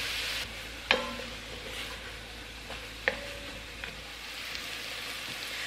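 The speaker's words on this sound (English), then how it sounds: "And let these cook until the onion is translucent." Onion, celery and carrots cooking in butter in a pot, a soft continuous sizzle with a few sharp clinks of a stirring utensil against the pan.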